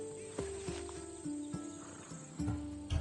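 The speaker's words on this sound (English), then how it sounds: "I wouldn't want you to take an unworthy horse." Horse hooves clop in a slow, uneven rhythm with a brief whinny in Assassin's Creed Odyssey, quiet and close against faint game background sound, with no one talking.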